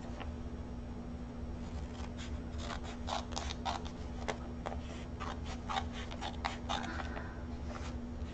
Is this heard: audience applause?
no